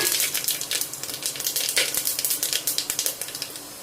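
Star anise, marathi moggu, cloves, cinnamon, bay leaf and fennel seeds crackle in hot oil for vegetable rice, a loud, rapid, irregular popping over a steady sizzle.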